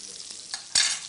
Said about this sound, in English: you can see they are sizzling already